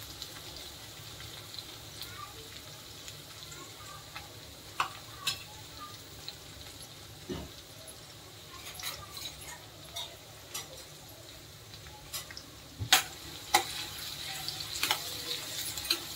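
Finely chopped onion and a little green chili frying in a home cooking pan, a steady low sizzle with scattered ticks and scrapes of stirring that grow slightly busier toward the end.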